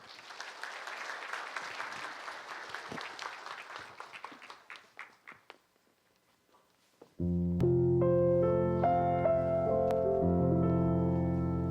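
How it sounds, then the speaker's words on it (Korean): Applause from a Sunday church service congregation welcoming a deaconess's offering hymn, a broad patter of clapping for about five seconds that fades out, then a pause before organ-like music begins loudly. "박수로 맞이하겠습니다"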